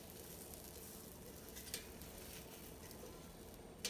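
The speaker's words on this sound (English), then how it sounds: "Oh, it's sizzling." Food sizzling inside an air fryer, a soft steady crackling hiss with scattered faint pops, quiet and continuous, with a couple of sharp clicks.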